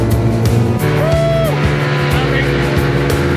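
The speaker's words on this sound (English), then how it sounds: "the power one feels when starting up the Italian-made Piaggio 4-valve 49cc engine" An Italian-made Piaggio 4-valve 49cc scooter engine starts up and settles into a buzzing idle, loud and close with a rough, pulsing tone and a brief rising whine.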